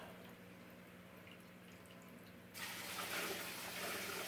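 Deionized water is poured into a small saltwater aquarium setup, starting as a faint trickle and then turning to a louder, steady splashing rush partway through.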